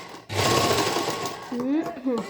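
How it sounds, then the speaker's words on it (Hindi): A sewing machine stitching a half-sleeve shirt whirs up loudly and close for about a second in a fast, even hum, then someone talks over it as it runs on. "कैसे सिलाई होती है ये देख सकते हो"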